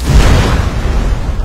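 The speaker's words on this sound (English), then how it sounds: "No one even noticed the massive fireball." A massive fireball erupts in an open-world horror game, a loud, close, low rumbling boom that swells and rolls out over about a second and a half with no voices.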